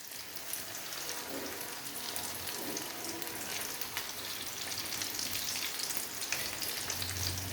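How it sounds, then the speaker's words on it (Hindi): Chicken and mixed vegetable cutlets fry in hot oil in a pan, a steady, soft, close sizzle with light crackles and occasional stirring or turning sounds, no voices. "एक साइड से गोल्डन फ्राई करते हैं, फिर दूसरी साइड इसकी तब्दील करेंगे।"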